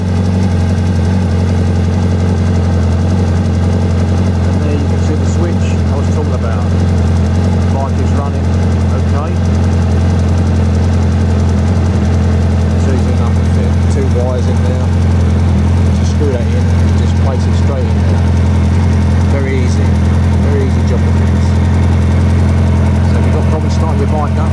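A 2012 second-generation Suzuki Hayabusa motorcycle engine runs at a steady, loud, close idle after a battery refit and starting trouble, with a constant low rumble throughout.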